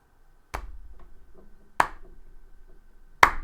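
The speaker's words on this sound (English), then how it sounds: "As Astophiles just claps his hands." Three sharp, isolated hand claps spaced over a few seconds, each a crisp broadband crack with a short decay against a quiet background.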